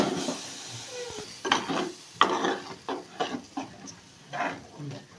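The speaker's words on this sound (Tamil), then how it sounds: "தேங்காய் நல்லா வதக்கணும் ஒரு எண்ணெயிலே." Coconut sautéed in oil for fish curry, scraping and stirring in a pan, with irregular rasping bursts of a spatula against metal and a faint sizzle underneath.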